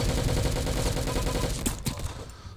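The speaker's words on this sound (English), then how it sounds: "I am on the stupid freaking nail gun again." Rapid repeated firing of a nail gun weapon in the Roblox shooter game Arsenal, a dense loud burst of shots that continues throughout and fades a little toward the end.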